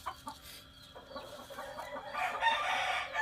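A rooster crows and chickens cluck nearby, with a few scattered clucks first and then a longer, brighter crow toward the end.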